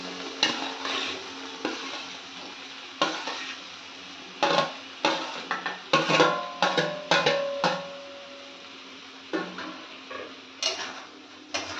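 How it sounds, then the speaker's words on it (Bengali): Fried vegetables stirred into spiced masala in a pan for a Nabaratna dish, with quiet, irregular clinks and scrapes of a utensil against the pan and a faint sizzle between strokes. "এবার আমি এখানে যে সবজিগুলো ভেজে রেখেছি আমি এগুলো সবকে একসাথে দিয়ে দেব।"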